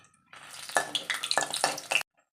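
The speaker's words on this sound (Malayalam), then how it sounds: "നമുക്ക് ചെറിയ തീയിൽ നമുക്ക് ഈ മുളകൊന്ന് വറുത്തെടുക്കാം" Dried red chilies fry in coconut oil in a pan over a low flame, giving close crackling and sizzling bursts with stirring scrapes for about two seconds before cutting off.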